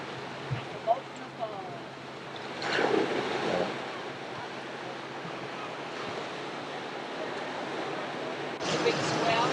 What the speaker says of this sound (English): the waves are coming in further and further